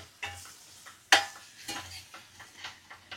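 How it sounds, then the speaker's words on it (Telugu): A spoon scrapes and stirs egg gravy curry in a pan, giving repeated soft scraping strokes and one sharp metallic clink, with a faint sizzle between strokes. "ఇట్లా కలుపుతున్నా చూడండి"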